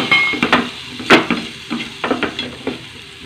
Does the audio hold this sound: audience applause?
no